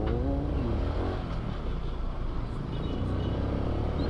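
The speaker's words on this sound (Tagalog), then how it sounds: "Wow, traffic eh." Road traffic with a car engine revving, a steady loud rumble of motor vehicles close by that fills the whole span without a break.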